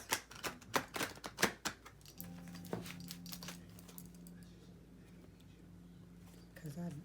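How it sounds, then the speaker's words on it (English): Playing cards are shuffled in quick, crisp riffling bursts up close, then quiet with a low hum. "I'm going to start shuffling some cards."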